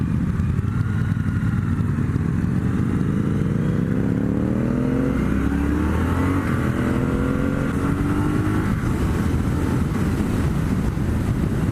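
A Triumph Bonneville T120 motorcycle accelerates hard, its engine note climbing through several gears in rising sweeps, loud and close over heavy wind noise, with no talking.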